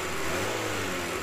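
Car engine started and left running during an automotive engine electrical inspection, heard as a loud, steady engine drone close by for just over a second, with no talk over it.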